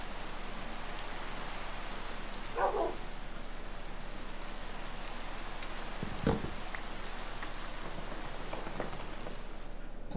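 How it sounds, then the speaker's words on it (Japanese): Steady rain falls in the Minecraft video game, a soft, even hiss running throughout at low level, with a couple of brief faint knocks. "お、雨もやみましたね。"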